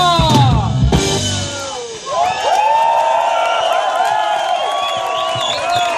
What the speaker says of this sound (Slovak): To je potlesk pre vás.